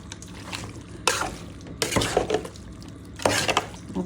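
Beef being mixed by hand with cardamom, cloves, black pepper, cinnamon, bay leaf, fenugreek, oil and salt makes soft squelching, stirring sounds, with a few louder wet bursts and clanks from a bowl.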